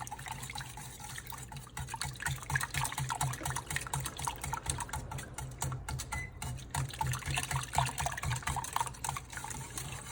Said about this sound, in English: Turn our heat on low to medium. Whisk it up a little bit.